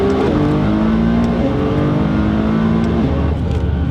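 A modified Mustang GT with 1,000 horsepower accelerates hard, its loud, steady engine roar rising in pitch through a gear change, heard close from inside the car with no talking.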